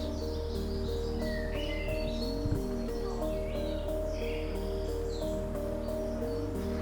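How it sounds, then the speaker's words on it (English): Birds chirp and sing outdoors in quick, faint bursts over a steady low hum of distant traffic, the calls scattered and light against the background. "Can you hear those birds singing?"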